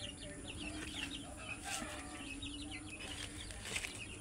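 Chickens and small chicks in a backyard coop after a typhoon, soft clucking and high peeping chirps repeating steadily at close range over a constant low background noise.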